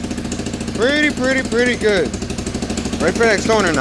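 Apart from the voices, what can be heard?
quad ATV engine running after starting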